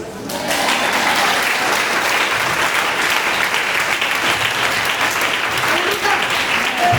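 A church congregation breaks into loud, sustained applause that swells in quickly and holds steady, dense clapping filling the room for several seconds.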